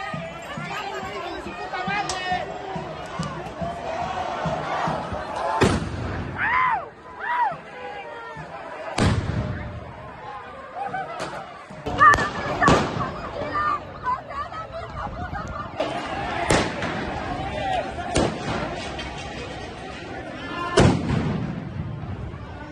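Street protest march turned violent in Mexico City, with hooded demonstrators hurling smoke bombs, paint, sticks and stones at police; sharp bangs and thuds burst out every few seconds over constant crowd chatter and shouting.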